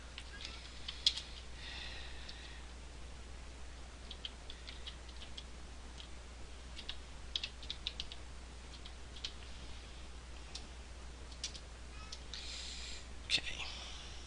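Keys on a computer keyboard are tapped while a networking command is retyped, faint scattered clicks in short bursts over a quiet hum, with soft background whispering.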